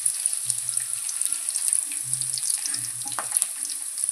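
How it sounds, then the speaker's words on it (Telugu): Ginger frying in a pan for a potato-tomato curry gives a steady broad sizzle with light stirring scrapes, close and continuous, with low murmurs in the background. "అల్లం పచ్చి వాసన పోయేదాకా ఇలా వేపుకోవాలి."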